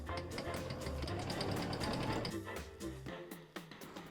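A sewing machine with a blind hemming foot runs a 1.5mm stitch, sewing ribbon onto felt. It gives a fast, steady mechanical whir that slows to separate needle thumps near the end.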